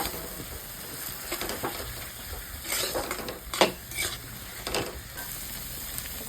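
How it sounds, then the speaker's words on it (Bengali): Masala with chili powder fries in a pan for a cabbage curry, making a steady sizzle overlaid with repeated scraping stirs and clinks of a spatula against the metal, close and fairly loud, with no speech. "মশলা দিয়ে একটা ভাজা ভাজা করা লাগবে।"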